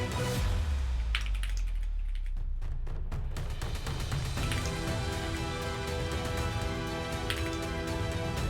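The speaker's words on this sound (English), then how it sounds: "it requires insane typing speed" Rapid typing on a computer keyboard, a dense clatter of quick keystrokes running almost nonstop, close and crisp, with no voices.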